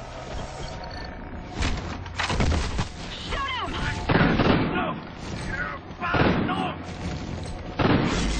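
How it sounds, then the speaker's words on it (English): Gunfire and explosions in the video game Call of Duty: Ghosts come as repeated loud bursts and booms under urgent, shouted in-game voices, with brief lulls between volleys. "Galen, Odin Control, we are taking fire!"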